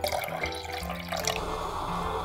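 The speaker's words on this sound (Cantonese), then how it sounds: "用嚟浸冬菇蝦米嘅嗰啲水就先倒出嚟備用" Soaking water from dried shiitake mushrooms and dried shrimp pours out of a bowl with a soft, steady liquid trickle and splash, fairly quiet and close, with no talking.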